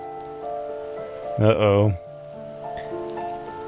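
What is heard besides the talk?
rain falling in video game The First Tree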